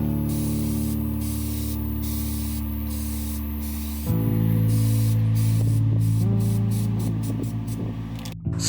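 Spray can laying a light coat of black-purple metallic paint onto a guitar body, a steady close hiss that runs the whole time, changing in tone partway through with short breaks near the end.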